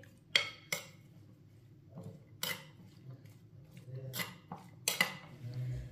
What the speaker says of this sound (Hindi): नींबू और मिर्च को मैंने मिक्स कर लिया